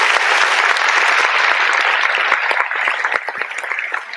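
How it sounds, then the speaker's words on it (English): A radio show DJ plays an applause sound effect: dense, loud clapping from a crowd, steady for about four seconds with no talking over it. "clap it up, DJ"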